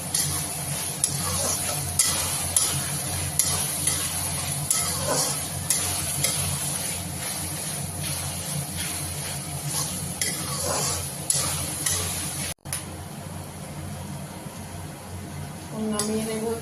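Ginger garlic paste fries in a pan, a steady close sizzle with repeated stirring scrapes and occasional clinks, a voice talking over it at times.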